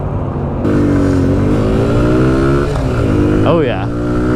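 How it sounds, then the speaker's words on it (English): Small Kawasaki Z125 Pro street-legal pit bike engine droning loudly while riding, with shifting revs, a brief rising and falling rev near the end and wind noise throughout. "This thing is essentially a little pit bike that's street legal."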